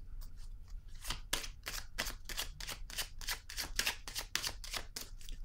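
Tarot cards shuffled and drawn, a rapid run of crisp flicking and slapping card sounds in quick succession, close and clear over a faint low hum, with no voices.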